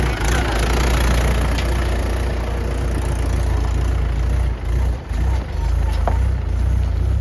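Loud, steady engine rumble of loaded tractors passing close by, a low droning roar that dips briefly before continuing.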